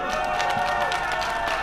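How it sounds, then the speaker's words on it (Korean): A crowd at an outdoor street rally near Gangnam Station exit 7, held over claims of election fraud, claps steadily in a brief, dense burst of applause that fills the moment without a voice over it. "박수 한번 쳐주세요."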